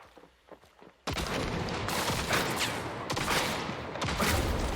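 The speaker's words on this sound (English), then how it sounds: "this is basically like just like shooting slugs over there" Shotgun slugs fired in a video game, a loud dense barrage of blasts that erupts after a second of quiet and keeps going, close and heavy with shots overlapping throughout.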